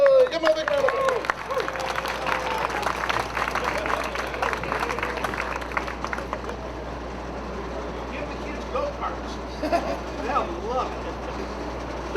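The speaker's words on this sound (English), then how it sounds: "Give him a big round of applause." Applause and crowd noise at a Six Flags Discovery Kingdom media day event, steady clapping spread across the whole stretch with background chatter and a voice briefly audible near the start.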